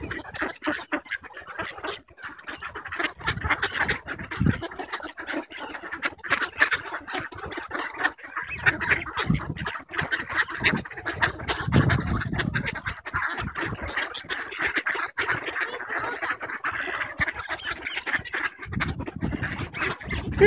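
A flock of ducks quacks continuously and loudly, a dense overlapping chorus of calls that goes on without a break for about twenty seconds.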